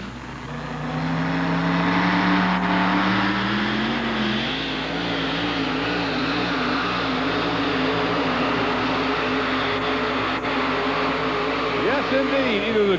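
A 1989 Dodge pulling truck roars loudly and steadily at a truck-pulling event, its engine pitch climbing and wavering for the whole stretch while an announcer talks over it.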